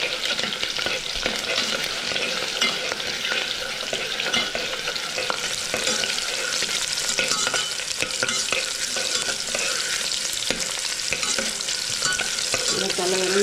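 Shallots and garlic sautéing in a pan for sambar rice, a continuous loud sizzle and crackle with occasional scraping stirs, no voices over it.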